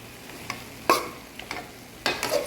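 A spoon stirs ground beef for picadillo in a pan, several sharp scrapes and clicks spaced out over a soft sizzle, close and without talk.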